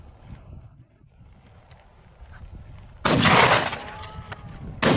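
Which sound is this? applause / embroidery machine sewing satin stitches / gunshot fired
gunshot fired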